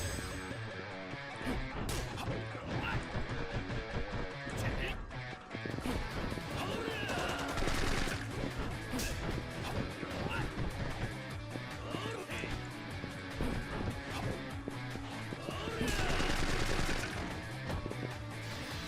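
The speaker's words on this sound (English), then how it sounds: "Now we begin the third leg of his training, and he's armed with a machine gun." Machine gun fire in Yakuza 4 Remastered crackles steadily across a dense, noisy fight scene, layered under music and impacts with little pause.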